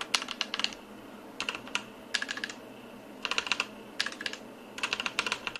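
Typing on a Royal Kludge G87 mechanical keyboard with red switches: crisp, close clacks in quick bursts of several keystrokes, separated by short pauses, in a quiet room.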